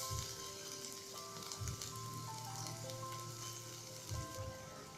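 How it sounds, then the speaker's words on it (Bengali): About a cup of onions fry in hot oil in a wok, giving a soft steady sizzle with a few brief louder bursts, faint and distant, with no voices. "তেল গরম হয়ে গেছে, এবার আমি এতে 1 কাপের মতো পেঁয়াজ দিয়ে দিব।"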